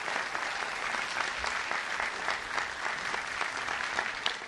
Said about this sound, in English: give a round of applause for all 3 of these teachers